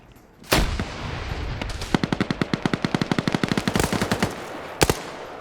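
Video game PvP match gunfire: a loud blast followed by a long rapid machine-gun burst of evenly spaced shots, then two more heavy reports near the end.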